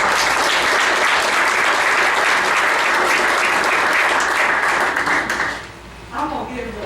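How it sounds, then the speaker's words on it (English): Audience at a Bullitt County fiscal court meeting gives a round of applause, a loud, sustained rattle of many hands that fades near the end as a voice begins talking. "Let's give Hannah a round of applause."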